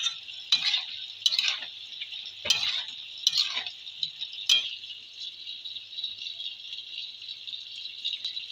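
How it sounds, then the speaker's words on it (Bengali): Pumpkin and greens curry with potato being stirred in a pan, a few sharp scraping knocks of a spoon against the pan over a steady sizzle, then continuous frying hiss alone. "নেড়ে দেবো একবার।"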